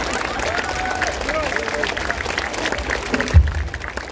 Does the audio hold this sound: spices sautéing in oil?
no